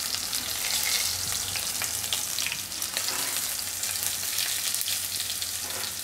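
Curry leaves sizzle and crackle in hot oil with green chillies and asafoetida while tempering for Gujarati sweet kadhi, a steady, loud frying hiss throughout with no voices.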